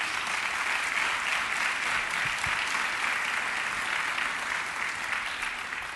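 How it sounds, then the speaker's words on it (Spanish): Steady, loud audience applause for business leaders at Mexico's XVI National Tourism Forum, a dense wash of clapping that holds evenly for the whole stretch with no voices over it. "le demos un fuerte aplauso a los empresarios"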